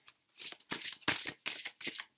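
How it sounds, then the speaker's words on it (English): A deck of tarot cards being shuffled by hand in a few quick riffling bursts separated by short pauses, crisp and close. "this deck is really hard to shuffle on camera"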